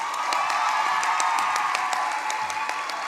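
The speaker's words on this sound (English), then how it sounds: "Let's give Nhlanhla another round of applause," Audience applause at a university graduation ceremony in a large hall, a dense, sustained wash of clapping with scattered louder claps and some faint cheering throughout.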